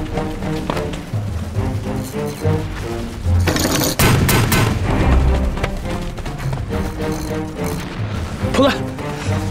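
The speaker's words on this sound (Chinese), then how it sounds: "用迫击炮把城墙上的机枪手给我炸掉。" A wartime film battle scene in a city: a mortar blasts toward machine gunners on a wall amid a dense roar of gunfire and booming impacts, with shouted voices over a continuous loud din.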